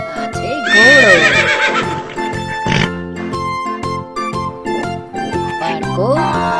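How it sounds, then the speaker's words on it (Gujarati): A horse whinnies loudly with a rising, wavering neigh, followed by rhythmic hoof clip-clops and a second shorter whinny near the end, alongside a kids' animal-name lesson. "ઘોડો તબડક ઘોડો"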